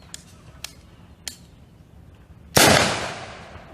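Glock 17 pistol shot at a shooting range, one loud sharp report near the end that rings out into a decaying tail, preceded by a few faint clicks.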